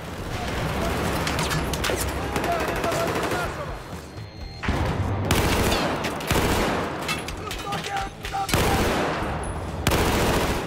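Rapid assault rifle bursts from an AEK-971 in Battlefield 4 crackle loudly and almost continuously in a chaotic 64-player battle, with short pauses between volleys and brief thuds mixed in.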